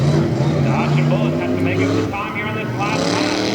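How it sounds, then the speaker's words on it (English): A Chevrolet tough truck races on a dirt track at the Lima, Ohio Tough Trucks Challenge finals, its engine a steady loud roar that eases slightly partway through, with a commentator talking over it throughout. "a lead for the Central Ohio Tire Chevrolet as he enters the second lap"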